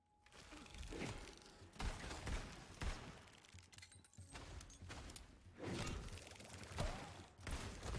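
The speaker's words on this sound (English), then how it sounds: "Great if I could actually hit something with my gunshots." Rapid bursts of gunfire with whooshes and thuds fill the Tiny Tina's Wonderlands video game, coming in repeated volleys over eight seconds at moderate loudness.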